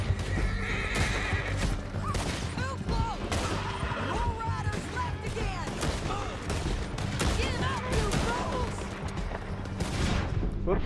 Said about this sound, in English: That's a horse I just shot.